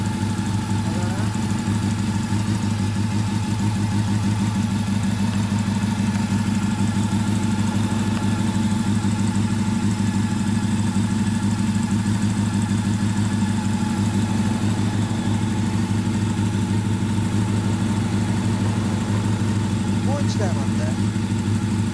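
Honda CB400 Super Four Version S (NC31) motorcycle engine idling steadily, a close, constant mid-pitched four-cylinder hum with even pulsing throughout, while people talk over it.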